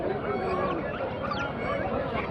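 Loud chorus of ducks calling nearby at a poultry market in Kunnathur, overlapping honks and quacks in a busy, continuous stream.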